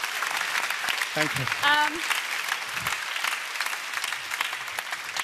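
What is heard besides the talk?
studio audience applause on dance show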